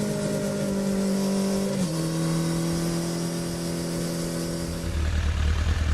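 Suzuki GSXR 750 sport motorcycle engine revving steadily, a strong harmonic drone that shifts pitch once partway through before cutting to a lower rumble near the end; loud and close, no talking.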